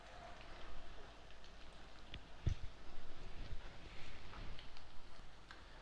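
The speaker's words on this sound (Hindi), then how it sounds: "पहले एक साइड फ्राई करेंगे, थोड़ा सा दबा के आपने करना है ताकि ये खुले ना।" Potato pancakes, aloo cheela pressed into patties, fry in a pan over medium heat, giving a steady, fairly soft crackling sizzle with small pops throughout and no talking.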